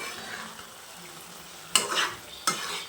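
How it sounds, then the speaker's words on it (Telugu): Egg masala curry is stirred slowly in a pan, a soft continuous scraping sizzle with two sharper clinks of the spoon against the pan near the end, close and fairly quiet. "ఈ మసాలా కూడా మొత్తము పట్టే విధంగా అయితే కలిపేసుకోవాలి"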